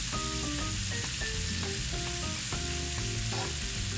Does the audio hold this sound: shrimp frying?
yes